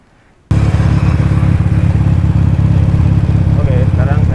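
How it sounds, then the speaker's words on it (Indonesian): A 2017 Ural Patrol motorcycle is ridden, its engine starting suddenly after a brief quiet moment and then holding a steady, loud, close rumble with rattling clatter throughout. "sekarang saya sedang nyoba jalan dengan Ural Patrol"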